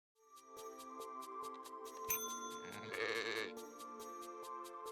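Sheep bleating continuously in a layered, wavering chorus, with rhythmic high clicks throughout and a louder rough bleat near the middle, fairly close and alone without talk.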